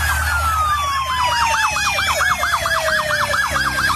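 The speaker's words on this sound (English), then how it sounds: "We hear the sirens of the officers" Minnesota police car sirens: a wailing siren with fast rising-and-falling yelps blares close and loud, with a second siren tone sweeping underneath.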